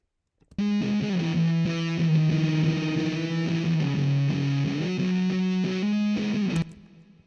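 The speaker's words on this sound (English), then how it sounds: "so we can add a little bit of reverb" A sustained distorted, heavily processed synth tone with reverb added holds steady with a few pitch steps, then stops abruptly; no voices.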